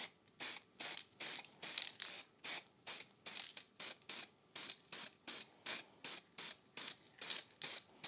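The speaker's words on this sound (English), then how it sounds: "I'm going to be using spray paint." An aerosol spray can hisses in repeated short bursts, about two per second, in a steady rhythm from start to finish.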